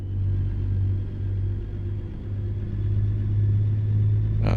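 A truck engine in American Truck Simulator drones at low RPM, a steady deep rumble held evenly throughout with no talk over it.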